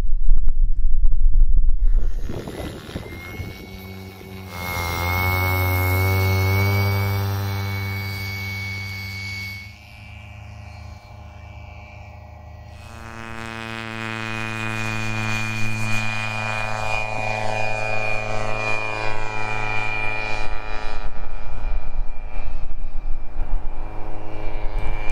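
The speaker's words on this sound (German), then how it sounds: "Der 10S-Antrieb schleppt den Segler, wie man sieht, perfekt auf Höhe." An electric 10S-powered model tow plane pulls an Arcus scale glider with a 7.4 m wingspan, its motor whining loudly close by, fading, then rising again in pitch and volume as it passes and climbs.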